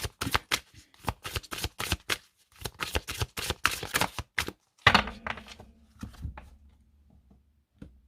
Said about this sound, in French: on va voir une coupe avec les murmures de Ganesh